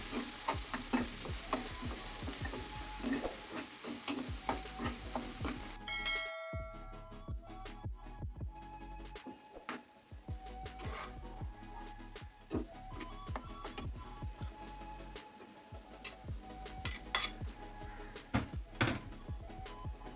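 A filling of grated potato and coriander leaves is stirred and turned in a hot pan. A spoon scrapes and clinks in a steady, uneven rhythm over a continuous close sizzle of frying, with no voices.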